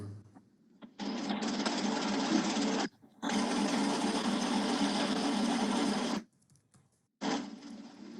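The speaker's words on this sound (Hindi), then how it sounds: "मेरे पंखा मैंने चलाया हुआ है," A running electric fan makes a steady, loud whirring drone that cuts out twice, sounding close and continuous, with brief silent gaps between stretches of noise.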